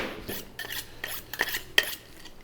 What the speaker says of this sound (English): Let's get them cut into some steaks.